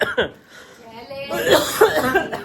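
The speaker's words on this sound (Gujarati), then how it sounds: "મમ્મી ઉધરસ થઈ ગઈ છે" A person coughs once or twice close by, and talking follows the cough.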